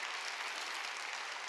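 A church congregation claps together during a Sunday worship service, a steady dense wash of applause from many hands throughout, with no voices standing out.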